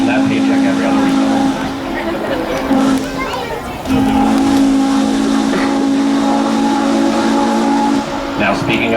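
Steam whistle of the Norfolk & Western 611 locomotive sounding in long sustained blasts, steady with a brief break, over a hissing rumble with voices faintly underneath.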